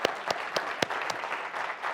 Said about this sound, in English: I think we need a round of applause for these sponsors